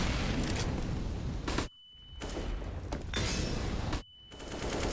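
Gunfire and flashbang blasts in Counter-Strike on the Inferno map, dense loud bursts of shots and bangs broken by two short near-silent gaps with a thin high ringing tone.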